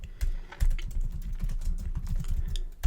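Fingers type a heading tag into WordPress on a computer keyboard, giving a quick, uneven patter of close key clicks and taps that runs steadily without pause, alone with no voice.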